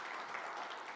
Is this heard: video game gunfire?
no